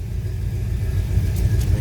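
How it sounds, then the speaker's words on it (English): A 1957 Ford Fairlane Ranch Wagon idles with a low, even rumble, close and steady, with no talking. "Car's got a nice little rumble to it."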